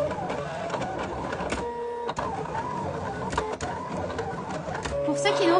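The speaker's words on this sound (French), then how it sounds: "la machine en a encore pour 15 secondes de découpe" A vinyl cutting machine, a Silhouette Cameo, slicing a Christmas tree decoration design, a steady whirring motor with buzzing carriage movements and a rising tone near the end, under speech.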